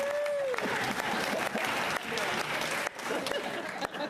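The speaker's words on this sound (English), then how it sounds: "Clap, give him a hand." Steady applause from a crowd fills a Senate chamber, dense clapping that carries on throughout with a voice briefly heard over it.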